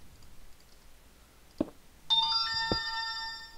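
A phone rings with a bright electronic tone after a sharp click, the ringtone sustained and fairly clear in a quiet room with no talking over it.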